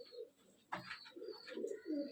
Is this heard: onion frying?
no